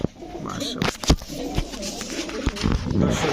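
Old-breed domestic pigeons kept for sale coo softly and repeatedly in a loft, mixed with rustling, wing flaps and nearby voices talking throughout.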